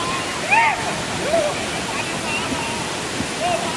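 Mallanna Gandi waterfall in Janagam, a steady broad rush of falling water filling the whole moment, with a few brief high chirping or whistling tones over it.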